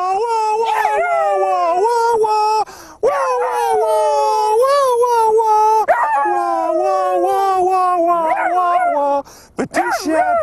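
A dachshund named Saucisse howls in long, wavering, melodic notes that rise and fall like singing, nearly continuous across the stretch with only brief pauses between phrases.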